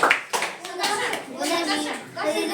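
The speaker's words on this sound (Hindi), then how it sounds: "शाबाश ना, जोरदार ताली" Schoolchildren in a classroom give a round of clapping, a quick burst of many hands close by, mixed with talking.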